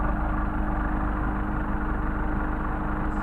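A Mercedes 190SL engine with Solex carburetors idles steadily, a continuous even low rumble with a faint high whine running through it, close and alone with no talk.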